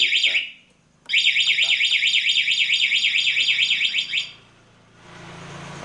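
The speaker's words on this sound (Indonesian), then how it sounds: "Alarm bunyi, di-start." A Honda Beat scooter's remote anti-theft alarm blares close by, a shrill warbling siren cycling rapidly up and down, cutting off abruptly, followed by a low engine-like rumble as it starts.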